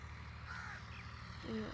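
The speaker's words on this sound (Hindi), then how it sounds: "कौवे" A crow caws faintly in the distance over a low background hum, a short harsh call or two rising above quiet ambient noise.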